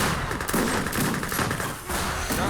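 Grenade throws exploding against artillery pieces in the Age of Empires 3 video game, a dense burst of thumps and crackling blasts that carries on with a short dip near the end.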